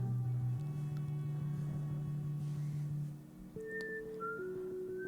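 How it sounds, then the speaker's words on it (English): A thin whistled melody with long held notes drifts over soft music in a song, fairly quiet and steady. "Nor did I know there was whistling in this."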